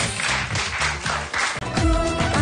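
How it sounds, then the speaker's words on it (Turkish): A studio audience applauds with dense, steady clapping that rises and stays loud, backed by music through the short burst. "Alkışlarla seni yerine"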